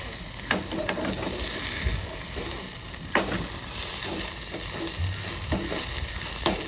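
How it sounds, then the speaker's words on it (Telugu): Goat head curry frying in a pan over a low flame gives a steady, close sizzle with occasional stirring scrapes and clinks, and no talking. "ఇది బాగా ఫ్రై చేసుకోవాలండి సిమ్లో పెట్టుకొని"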